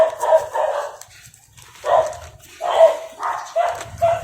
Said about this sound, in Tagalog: Pasensya na po sa ingay ng aso ha.